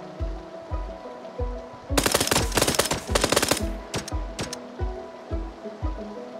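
Rapid automatic gunfire bursts in a PUBG match, a dense volley of sharp shots for about two seconds followed by a few scattered single shots, heard over a steady pulsing game background.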